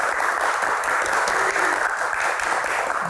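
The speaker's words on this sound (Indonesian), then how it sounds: "Tepuk tangannya mana teman-teman?" A studio audience at an Indonesian televised Q&A talk show applauds in a dense, steady wash of clapping that holds at an even level throughout, with no voices over it.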